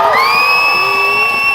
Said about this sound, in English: let's give a big loud cheer to South Africa